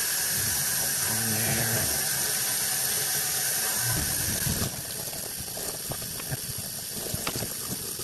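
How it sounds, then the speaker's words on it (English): Hot water runs and hisses steadily over old can lids during rinsing, with no soap. A few brief clinks of metal sound in the first half, then the flow grows slightly quieter and continues. "I'm just gonna clean them with hot water."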